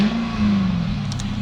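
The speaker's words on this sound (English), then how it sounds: "And that's the stock exhaust." A supercharged Cadillac CTS-V Coupe on its stock exhaust holds a steady, throaty engine drone with a low hum, close and fairly loud, for a brief moment.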